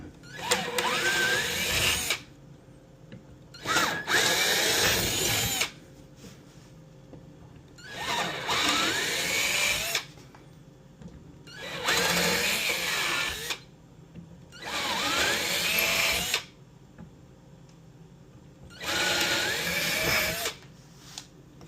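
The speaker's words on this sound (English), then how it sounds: "if we hadn't chamfered that with the drill, the way it's spinning and pulling" A power drill chamfering a hole in wood for a pinball kit whirs in six bursts of about two seconds each, separated by short quiet pauses, loud and close.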